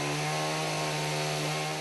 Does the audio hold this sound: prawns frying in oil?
no